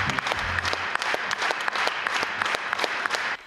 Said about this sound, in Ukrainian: Найбільше овації для захисників та захисниць.